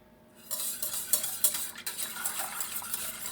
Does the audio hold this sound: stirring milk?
yes